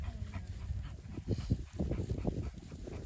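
A dog huffs and makes soft, low whimpering and panting sounds nearby, irregular and fairly quiet, over a faint background hum.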